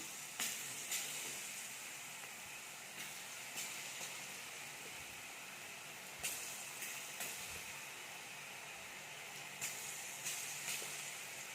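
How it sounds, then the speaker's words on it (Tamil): Vadai fritters frying in hot oil at a village cooking spot, a steady soft sizzle and hiss running throughout with a few brief crackling pops. "இப்போது கொஞ்சம் கொஞ்சமாக சேர்த்து பொரித்து எடுத்துக்கலாம்."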